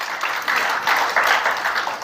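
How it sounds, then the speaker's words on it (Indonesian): A church congregation claps for Jesus during a sermon, a steady wash of many hands at moderate loudness that carries on for about two seconds, with no voices over it. "Tepuk tangan bagi Yesus."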